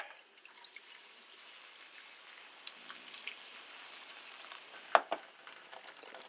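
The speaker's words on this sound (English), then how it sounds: "Turn on the tap." Tap water trickles and splashes into a bowl of popcorn, a faint, steady running stream with a couple of sharper clinks or splashes near the end.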